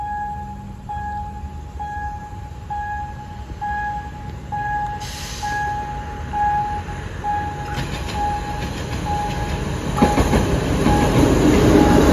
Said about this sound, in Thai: เป็นขบวนรถเร็วที่ 167 กรุงเทพปลายทางสถานีกันตังนะครับ